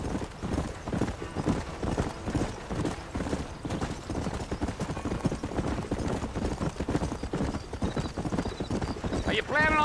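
A horse gallops in Red Dead Redemption, hooves pounding in a fast, continuous rhythm up close, with an occasional whinny and mechanical creaks, while people talk over the hoofbeats.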